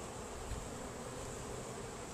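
Honey bees buzz in a steady, dense drone around the rim of an opened hive feeder, where they have been taking syrup. The hum is continuous and fairly faint, and no voices are heard.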